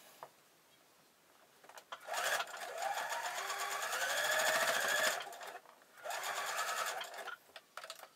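A sewing machine stitches a shirt in close, rapid bursts: a short run, then a longer steady whir, a pause, and another burst, with faint handling between.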